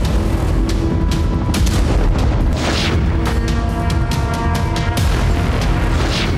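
Loud, sustained rumbling booms and blasts from an Iskander missile strike on Ukrainian Neptune and HIMARS launchers near Dnipropetrovsk, continuous heavy low roar with repeated sharp impacts throughout.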